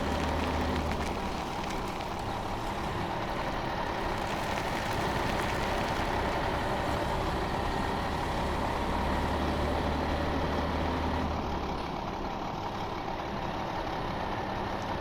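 Steady drone of a tractor engine in Farming Simulator 17, revving continuously at a constant, grinding pitch for the whole stretch, loud and unbroken with no talk over it.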